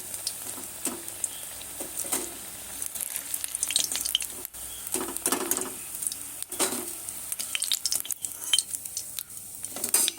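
Onion fritters made with roasted chickpea flour sizzle steadily in hot oil, with occasional stirring and utensil clinks over a continuous crackling hiss; no one speaks.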